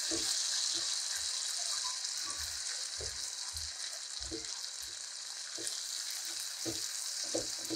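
Saoji masala sizzles in a pan over low heat, a constant bright hiss broken by regular soft scraping pulses as it is quickly mixed, close and clear with no talk.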